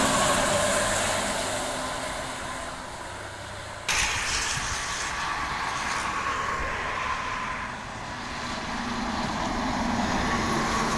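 A bus passes on the road during a convoy of coach buses under military academy escort, a steady broadband roar of engine and tyres that swells and shifts midway, with continuous traffic noise throughout.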